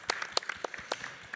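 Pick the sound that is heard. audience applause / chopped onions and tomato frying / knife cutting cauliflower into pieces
audience applause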